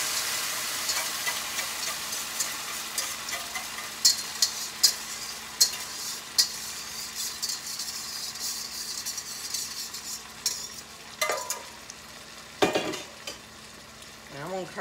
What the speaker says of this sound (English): Now we're going to just stir this around in here and scratch the bottom of your pan